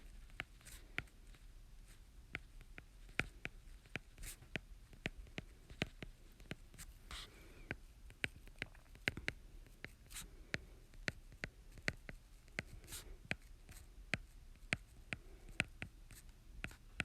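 Pencil scratching across paper in steady bursts of short strokes, like numbers being written into one box after another, close and fairly quiet with no voices.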